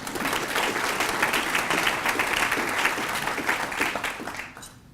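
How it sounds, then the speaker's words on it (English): Sustained applause from an audience at a city's State of the City address, dense clapping held steady for several seconds before tapering off quickly at the end. "That deserves a round of applause."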